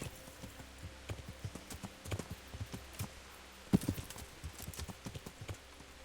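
Steady clip-clop of horse hooves at a walking pace in the video game Kingdom Come: Deliverance, a quick run of close, clear knocks with faint rustling of bushes behind them.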